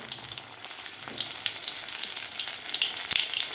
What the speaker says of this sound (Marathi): यामध्ये अशा प्रकारे लगेचच आपल्याला तेलामध्ये सोडायचे आहे